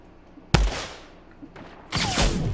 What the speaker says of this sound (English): Who's just shooting at me, bro?